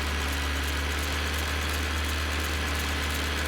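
A tractor engine in Farming Simulator 22 runs at a steady, low, even drone on a forest logging job, with a constant rumble and no talk over it.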